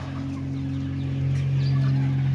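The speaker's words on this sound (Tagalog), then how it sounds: "Magandang manok na yan." Eight-week-old chickens cluck softly nearby over a steady low hum, with no voices.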